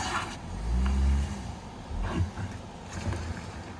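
A car stuck on a road near the Line of Control in Taobat, Kashmir, its engine rising in a loud low rev, then settling into a steady idle with a couple of smaller surges, wind noise in the background.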